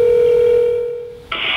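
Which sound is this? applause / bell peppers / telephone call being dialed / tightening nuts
telephone call being dialed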